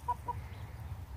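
Chickens cluck softly while scratching in a mulch pile outdoors, two quick faint clucks early over a low steady background rumble.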